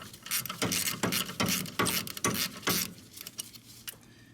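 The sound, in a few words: removing Mercedes E350 rear brake caliper bolt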